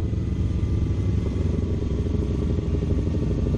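A sport motorcycle engine rumbles continuously and loudly on a group ride with R1, Hornet, CBR500, Ninja 300, Fazer 250 and R3 bikes, a steady low drone with clattering texture and no speech.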